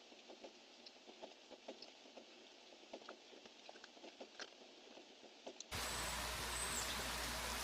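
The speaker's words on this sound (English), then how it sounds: "We have a really nice gentle rain." Soft, steady patter of gentle rain with scattered drips, fairly distant, before a sudden shift to a louder broadband wash.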